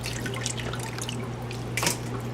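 Water drips and trickles as washed goat insides are squeezed out during home cooking in Trinidad, a soft, steady patter with a brief louder splash near the end.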